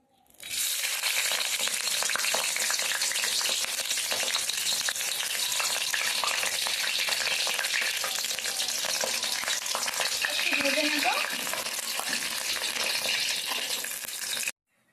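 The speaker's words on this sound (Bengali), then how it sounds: "আমি একটু ভেজে নিচ্ছি" Prawn paturi parcels frying in oil, a dense, loud and steady crackling sizzle that starts abruptly and holds evenly for the whole stretch before cutting off.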